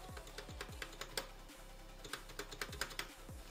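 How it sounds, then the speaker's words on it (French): Keys clack on a GG Ironclad mechanical keyboard, a close, irregular run of crisp keystrokes with a few deeper thocks, heard alone. "vous l'entendez, c'est radicalement différent de mon ancien clavier"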